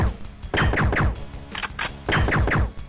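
Light gun shots in the 1996 arcade shooter Lethal Justice, loud sharp bursts of three or four quick reports in clusters, separated by brief pauses.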